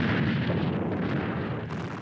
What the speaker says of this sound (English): Communist long-range artillery spearheads the opening attack